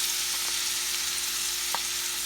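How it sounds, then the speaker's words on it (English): Half a pound of asparagus and sliced mushrooms, already sautéed and salted, sizzle steadily in a skillet for a sausage dish, with a couple of faint utensil clicks over the continuous hiss. "I'm going to pour my 1/2 pound of asparagus, 8-ounce package of sliced mushrooms"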